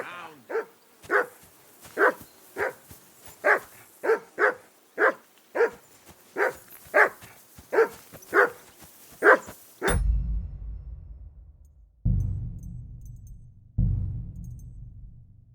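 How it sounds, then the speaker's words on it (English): A dog in Kingdom Come Deliverance 2 barks loudly and repeatedly, about fifteen quick evenly spaced barks up close, then stops, followed by a few low heavy thuds. "Be quiet, you three-bit hound."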